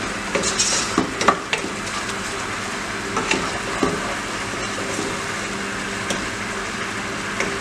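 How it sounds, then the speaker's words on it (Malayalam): Vinegar bubbles and sizzles in a hot pan nearby, for fish pickle, with occasional sharp clicks of a utensil stirring against the metal. "വിനാഗിരി നല്ലതായിട്ട് തിളക്കട്ടെ."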